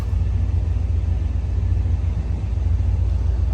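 A deep, steady V8 engine rumble idles close by, a low, even throb with no voices over it, from a 1990 GMC K1500 SLX pickup truck with a 350 V8.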